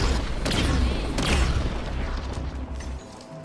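Loud, continuous explosions in Halo 5: Guardians with heavy low rumble and sharp bursts, booming repeatedly before trailing off near the end.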